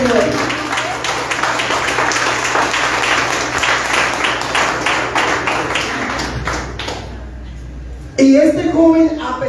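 A church congregation claps for the Lord during a Spanish-language sermon, a dense run of handclaps that fills most of the stretch, then fades out before the preacher's voice returns loudly near the end.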